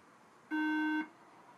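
A late 2009 27-inch iMac with its RAM missing gives a single loud, steady electronic beep of about half a second on power-up, alone against a quiet background.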